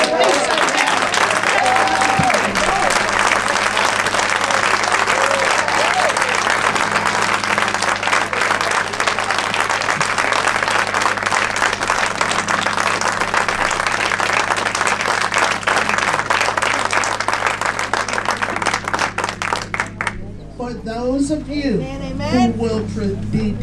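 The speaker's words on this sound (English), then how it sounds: "I want you to clap like you're outside this building" A congregation at a funeral service applauds loudly and continuously for about twenty seconds, the dense clapping filling the room before stopping abruptly, with a voice briefly heard afterward.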